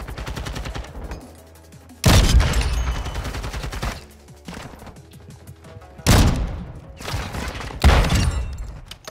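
Sniper rifle shots in Modern Warfare 2 crack out as loud, sharp reports, three or four heavy blasts spaced a couple of seconds apart, each with a decaying tail over background game sounds.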